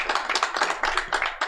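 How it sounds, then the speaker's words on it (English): Brief, sparse clapping from a small audience at a Makefest talk session, a handful of distinct claps in quick uneven bursts, fairly close and moderately loud. "A round of applause."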